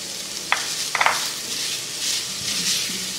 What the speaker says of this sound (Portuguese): Esperar ela fritar um pouquinho